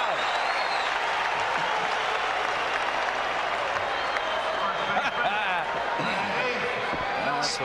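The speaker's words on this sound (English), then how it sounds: "Listen to the crowd." A large baseball stadium crowd at a 1990 Royals at Orioles game roars and cheers continuously, a dense wash of noise with scattered claps and shouts, a voice faintly heard beneath it.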